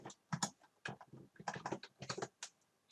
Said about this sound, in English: you can see what I'm typing in here